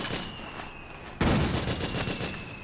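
Sustained firefight in Metal Gear Solid 4: Guns of the Patriots, heavy automatic gunfire rattling continuously, swelling sharply into a louder, closer barrage partway through.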